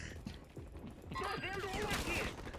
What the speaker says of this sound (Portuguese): E começa a trocação de tiro